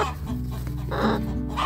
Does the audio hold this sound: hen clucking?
yes